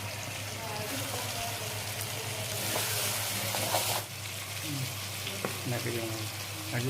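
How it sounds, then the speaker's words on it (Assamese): Chopped tomatoes go into chicken frying in a pan for a Mishing-style chicken dish, setting off a steady, fairly loud sizzle, with stirring scrapes, a brief surge of hiss in the middle, and a voice talking faintly beneath. "এতিয়া দি দিম বিলাহীখিনি। সৰু সৰুকৈ কাটি ল'লোঁ।"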